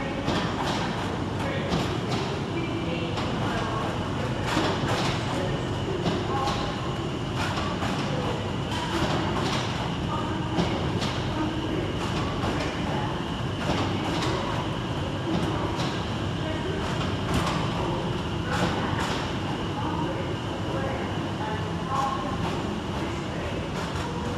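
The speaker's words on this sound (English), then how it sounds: "Arriving to terminate with a Greater Anglia service from Southend Victoria" Greater Anglia service from Southend Victoria pulling in to terminate at London Liverpool Street, a steady broadband rumble of train and station hall that carries evenly throughout, with faint voices blended into the busy background.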